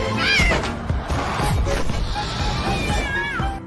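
A cat meows in a film scene, loud rising and falling cries at the start and again near the end, set against busy, noisy background sound.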